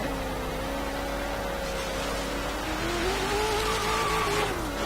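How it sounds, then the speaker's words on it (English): HSV GTSR race car braking hard in Forza Horizon 3, tires squealing in long rising and falling tonal wails over a constant roar of engine and road noise, close and loud throughout, with no talk. "Hard brakes."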